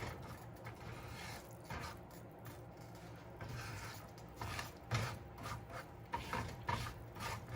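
Old-fashioned gravy being stirred in a pan as the flour mixture browns and turns lumpy, giving a steady near scraping and rubbing with irregular louder strokes and no talk.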